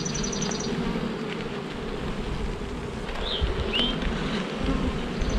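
Honey bees swarm and buzz around an open hive during a Snelgrove board swarm-control inspection, a dense, steady hum with a few brief higher chirps above it and no talking.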